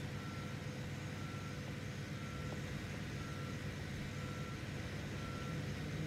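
Truck reversing beeps in a construction simulator game set at a spaceport building site, a steady faint tone repeating evenly under a constant low engine rumble, with no one talking.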